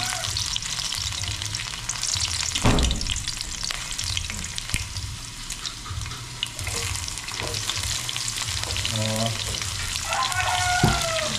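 Garlic frying in a generous amount of hot oil while eggplant is being cooked, giving a loud, steady sizzle with occasional stirring clanks and a few brief kitchen noises, no talking.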